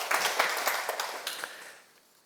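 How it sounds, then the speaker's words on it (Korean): An audience at a Sunday lecture claps together in a broad, steady burst that fades out over about two seconds. "큰 박수 한번 부탁드립니다"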